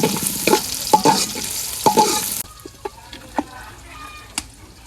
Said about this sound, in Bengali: তেল দিয়ে দিলাম পিঁয়াজ কুচি দিয়ে দিলাম দারচিনি আর এলাচ দিয়ে দিলাম পিঁয়াজটা লাল লাল করে ভাজবে